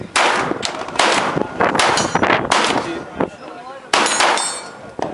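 PolyCASE plastic-case bullets fired from a firearm at a 2013 SHOT Show media day range: several loud, sharp gunshots in a few seconds, with other shots around them and people talking faintly in between.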